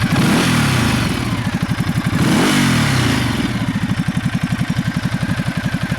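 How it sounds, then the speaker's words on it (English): The engine of a Ducati Multistrada 1200S touring motorcycle runs close and loud, with a lumpy, pulsing idle and two revs that swell and then fall back. "Everyone likes the rev up shots."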